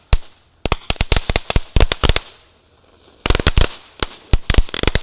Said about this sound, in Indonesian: Selanjutnya kita nyalakan mercon telur dino atau mercon telur komodo, satu pak sekaligus di atas air guys.